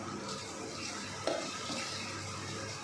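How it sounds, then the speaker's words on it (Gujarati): Pav bhaji spices and masala being stirred in a frying pan, a quiet scraping and gentle sizzle with one sharp clink of the spoon midway. "બધું નાખી આપણે બરાબર મિક્સ કરી લઈશું"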